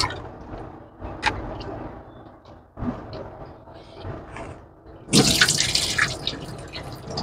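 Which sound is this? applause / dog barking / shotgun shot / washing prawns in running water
washing prawns in running water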